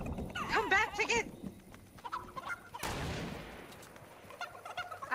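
A chicken in Fortnite gives a burst of warbling, repeated clucks up close, then a sharp bang cuts in and scattered faint game sounds follow.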